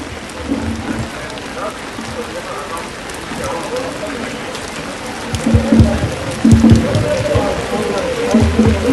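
Steady rain falls during an outdoor Independence Day flag-hoisting event in Ramban, a dense, loud hiss of drops on surfaces with heavier splashes and bumps in the later seconds.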